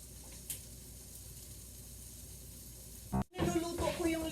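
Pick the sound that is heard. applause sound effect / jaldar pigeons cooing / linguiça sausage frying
linguiça sausage frying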